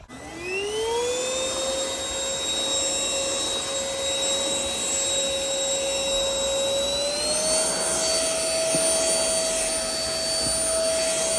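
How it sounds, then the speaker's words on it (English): A household vacuum cleaner runs steadily and close by for the whole stretch, its motor whine holding one pitch before rising slightly partway through, with no talking. "I do need to vacuum"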